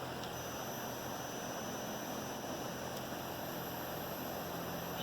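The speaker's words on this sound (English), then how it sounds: "Let me turn the fan on again, and I'll hold it so it can't turn." An electric fan blows steadily on a homemade vertical-axis wind turbine that is being held still, giving a constant broadband airy whoosh with a faint steady hum.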